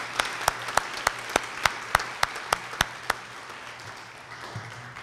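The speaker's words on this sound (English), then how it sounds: "So let's give her a round of applause" An audience at an essay and art contest ceremony gives light applause, with a run of crisp, regularly spaced close claps standing out before the clapping thins and fades.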